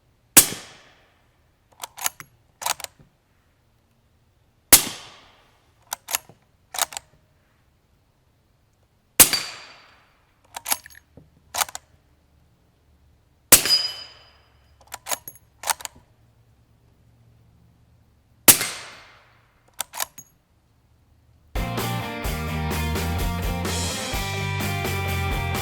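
Subsonic rounds fired through a Yankee Hill Machine R9 suppressor: sharp, muffled cracks with short ringing tails, in five close bursts of a single shot followed by a quick triplet. No talk is heard, and music takes over near the end.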